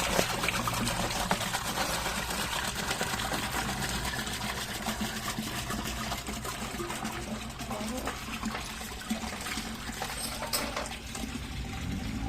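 Liquid drains steadily from a part of a Suzuki X4 motorcycle under restoration, a continuous close trickle and splash that stays even throughout with no clear pauses.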